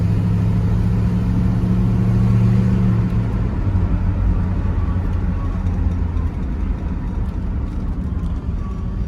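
Rumble of a 1969 Dodge Polara's engine while driving, a loud steady low drone that swells briefly early on, then settles into continuous road and motor noise with no talking.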